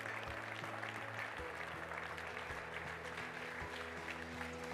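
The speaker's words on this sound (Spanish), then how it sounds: "Un fuerte aplauso para ellos." Faint, steady applause from a conference audience for a panel of speakers at an economics forum, a soft continuous patter of many hands over a low hum, distant and even throughout.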